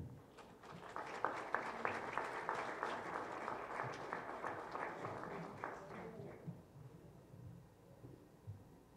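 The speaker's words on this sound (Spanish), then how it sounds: "Demos un fuerte aplauso a nuestro conferencista" Audience in a parliamentary lecture hall applauds a guest lecturer at an electoral-process conference, a dense, even burst of clapping lasting several seconds before tapering off into a quiet room.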